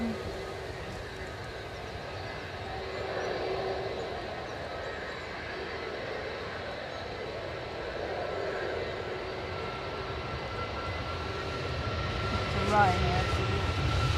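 Ryanair jet at a windy Edinburgh Airport: a fairly distant, sustained engine drone mixed with wind that builds gently toward the end. Faint talk runs underneath.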